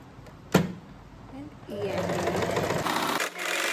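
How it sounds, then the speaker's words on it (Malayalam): A sewing machine stitching a blouse, a short sharp clack near the start, then a steady mechanical run under low talk that pauses briefly before resuming. "നമുക്ക് സ്റ്റിച്ച് ചെയ്ത് കൊടുക്കാം."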